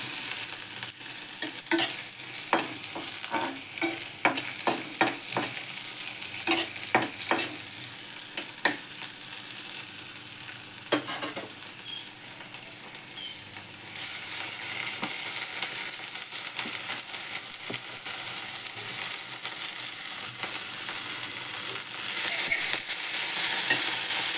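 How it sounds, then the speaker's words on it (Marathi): Chopped onion sautés in a pan with a continuous soft sizzle, while a spoon scrapes and stirs in irregular clatters; partway through the frying hiss grows noticeably louder and stays steady to the end, with no talking. "कांदा परतून घ्यायचा चांगला."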